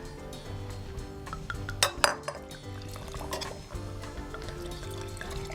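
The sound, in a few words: red wine being poured into glasses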